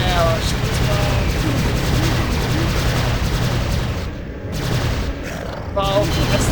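Bursts of weapon fire from the shooter game Prey (2006) rattle loudly and continuously under excited talk, with a short dip in the middle before firing resumes.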